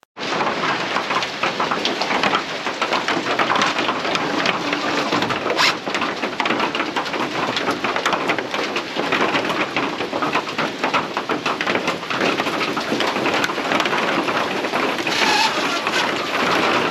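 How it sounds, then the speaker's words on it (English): Heavy, steady rain pours down on a greenhouse, dense and loud from start to finish, with low rumbles of thunder rolling underneath. "We'll put those on before it starts pouring rain."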